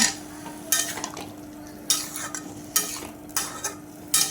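Curry with added water stirred in a pan, a series of bright scraping strokes of a spoon against metal at irregular intervals over a low simmering hum, with no talk.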